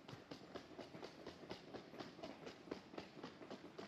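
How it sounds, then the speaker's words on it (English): An airport people mover train at Orlando International Airport rolls past with steady, rhythmic clickety-clack of wheels over rail joints, a continuous rumble beneath evenly spaced clicks. "Oh, it's a train."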